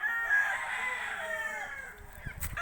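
A rooster clucks and crows close by, a long drawn call rising over a steady background, with a few low knocks near the end.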